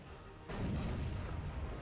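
A gas grenade detonating in the strategy game Dawn of War, a heavy muffled boom that begins suddenly and rolls on as a dense low rumble before tailing off slightly.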